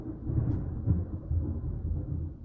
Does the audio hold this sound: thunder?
yes